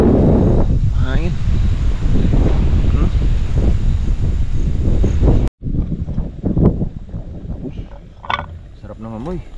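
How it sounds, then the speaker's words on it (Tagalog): Strong wind buffets a microphone at a windy, cold overnight solo motorcycle campsite, with loud gusty rumbling that drops out briefly and then returns, and a voice speaking at moments. "Hangin."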